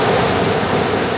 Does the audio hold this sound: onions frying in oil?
no